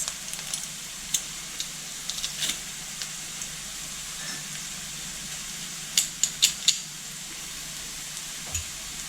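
Onion and garlic frying in a pan for pumpkin cream soup, a steady low sizzle with scattered small pops and a brief cluster of sharper crackles.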